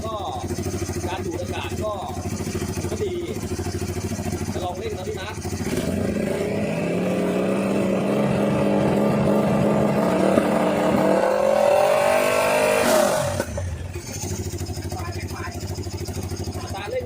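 A Polaris RZR 900 side-by-side engine revs up from idle, climbs to a loud rising roar, then drops back abruptly, close by and steady throughout, with someone talking over it.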